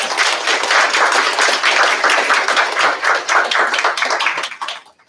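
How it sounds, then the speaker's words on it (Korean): An audience at a labor-reform advisory meeting claps loudly, a dense close patter of hands that holds steady and then fades out at the end. "여러분 박수 한번 크게 보내주시기 바랍니다"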